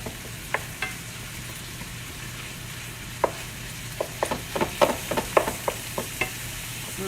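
A spoon stirring bolognese sauce in a pot makes a string of soft clicks and scrapes against the pot over a low steady hum, more frequent toward the end, with no voices.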